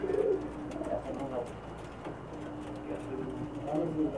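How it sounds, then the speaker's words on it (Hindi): Pigeons coo in soft, repeated throaty phrases, close by, with a faint background murmur and occasional voices. "ये गोल्डन कबूतरों में से है"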